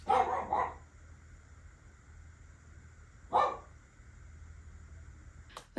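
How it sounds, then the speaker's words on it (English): Indoor dogs bark at movement outside, giving a short burst of barks at the start, another sharp bark in the middle and a final one at the end, with a low steady hum between them. "they just love to bark randomly at anything that is moving outside"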